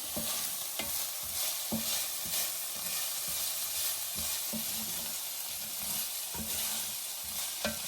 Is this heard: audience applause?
no